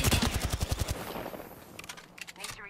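Rapid automatic gunfire in the video game Apex Legends, a loud close burst of evenly spaced shots lasting about a second, followed by a few scattered fainter shots and a quiet tail.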